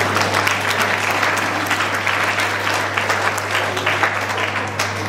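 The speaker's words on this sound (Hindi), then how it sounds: "जोरदार तालियों के साथ उनका मंच में स्वागत करें।" Loud, sustained applause from a hostel farewell-program audience welcoming Maharashtrian dancers to the stage, a dense steady roar of clapping throughout with a low electrical hum underneath.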